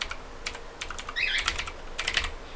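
Fingers type on a Skorpion K2 RGB mechanical gaming keyboard with its keycaps removed, making fast, irregular clicking keystrokes that come close together in short bursts. No one speaks.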